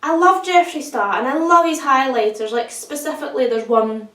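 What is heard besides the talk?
No everyday noises stand out.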